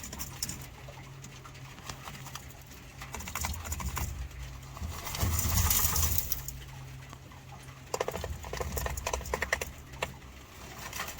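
Newly arrived farm quail moving about in a box or pen, a busy patter of scratching feet and soft rustling with a louder flurry midway, close and steady throughout without any talk.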